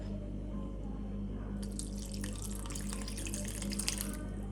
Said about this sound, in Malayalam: ഇതിലേക്ക് ഒഴിച്ചു കൊടുക്കാം.